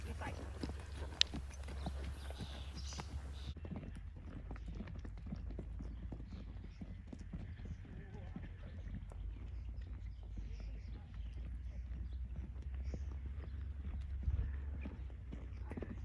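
A horse's hooves clip-clop at a steady walking rhythm in a riding arena at a Northern Utah horse and animal rescue farm, moderately close, with faint voices and background sounds underneath.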